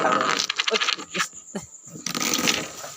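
Coins dropping and clinking in a casual indoor setting, a few scattered metallic hits across the clip with voices chattering around them.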